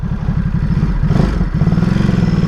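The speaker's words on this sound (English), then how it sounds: "this bike sounds the way it does with the stock exhaust" A 2018 Ducati SuperSport S motorcycle engine with stock exhaust thrums loud and close in a rapid, pulsing rhythm, briefly rising in pitch as the throttle opens, then settling back into a steady throb.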